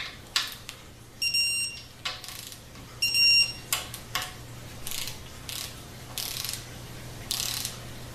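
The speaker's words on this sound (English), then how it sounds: "that little screwdriver does not tighten up the bolts, it just gets them closer" A small powered screwdriver runs bolts into a 4L60-E transmission during a rebuild, making repeated short, whirring mechanical bursts with clicks and pauses between them, fairly close and quiet, over a low steady hum.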